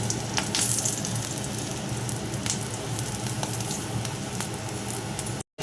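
Fish pieces sizzling in hot oil with nigella seeds and a dried chilli, a steady crackling fry with sharp spits and pops as the pieces are stirred, ending in a brief cut to silence.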